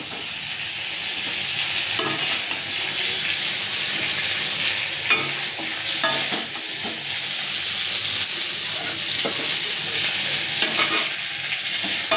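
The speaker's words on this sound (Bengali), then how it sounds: "চিংড়ি মাছ আমার প্রায় ভাজা হয়ে গেছে" Prawns sizzle steadily in a hot pan while being stirred, with a continuous frying hiss broken by repeated scraping and clattering strokes from the stirring utensil, close up and with no voices.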